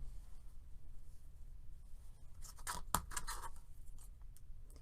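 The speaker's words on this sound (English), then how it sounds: "So you just want to cut those in half." Scissors snipping chenille stems in half for a Dollar Tree deco mesh heart wreath, a short burst of close, crisp cuts midway over a quiet room hum.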